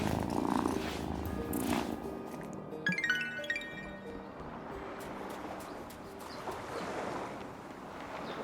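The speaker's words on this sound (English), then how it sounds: "Oh, what a good purr." A cat in the farming video game Wylde Flowers purrs steadily and close, a low rumbling drone running throughout beside soft game ambience and a brief chime.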